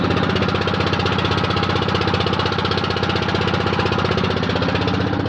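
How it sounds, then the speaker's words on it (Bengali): A boat's engine running on the river near Farakka, close by and loud, with a rapid, even mechanical chugging that drones on without pause and without speech. "এই নৌকার উপরে উঠে আমরা যাচ্ছি।"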